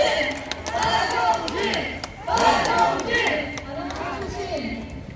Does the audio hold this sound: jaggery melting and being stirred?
no